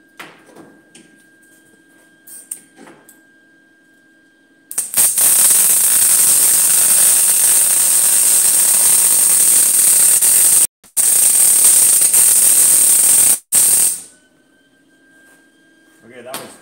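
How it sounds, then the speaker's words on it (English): Arc welding on a metal art sculpture, fixing its head in place: a loud, harsh continuous crackle and hiss runs for several seconds, breaks briefly twice, then stops, with quiet handling noises before it. "So now I'm just going to weld it into place so that the head doesn't accidentally come off in the future."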